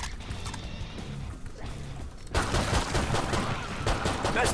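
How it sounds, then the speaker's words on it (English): Gunfire in the zombie shooter Killing Floor 2, where a weapon blasts enemies and sets them alight; a quieter stretch gives way midway to a dense, loud volley of rapid shots and crashes lasting to the end. "This gun not only shoots him across the room, but it also lights him on fire."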